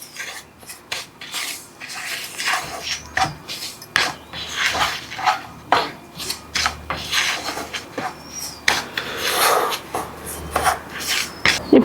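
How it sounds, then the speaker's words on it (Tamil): Semolina (rava) roasting in ghee in a pan for kesari, a metal spoon scraping and stirring in repeated gritty rasps and clinks, loud and close with short pauses between strokes. "இப்போது நெய்யிலே ரவை நல்லா வறுத்தாச்சு"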